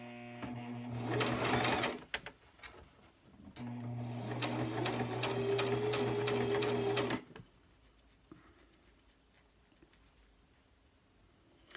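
A sewing machine stitches elastic onto a fabric face mask in two loud, even bursts of rapid needle clatter with a short pause between them, followed by quieter handling sounds.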